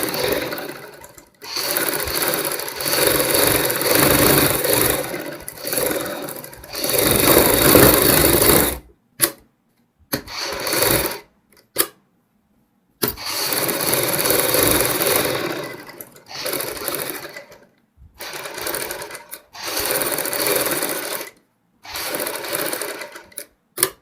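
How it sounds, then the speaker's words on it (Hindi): A sewing machine stitches along both edges of a buckram strip for a kurti neck patch, running in several loud, steady bursts separated by short pauses. "सबसे पहले हमने बुकरम के दोनों साइड किनारी के ऊपर सिलाई लगानी है।"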